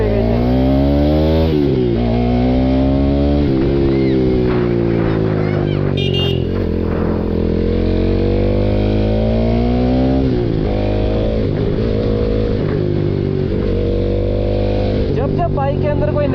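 A modified Bajaj Pulsar NS200 motorcycle engine runs close by, revving up and down repeatedly with a loud, throaty tone that rises and falls through the whole stretch.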